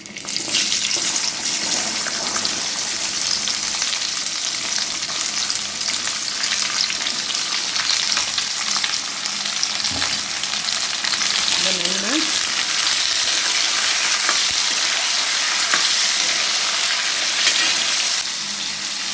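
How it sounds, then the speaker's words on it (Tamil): Star gooseberries frying in hot oil with mustard seeds, a steady, dense sizzle close by for the whole stretch, with faint clinks and stirring scrapes now and then. "இப்போது இந்த நெல்லிக்காயை போடப்போம்"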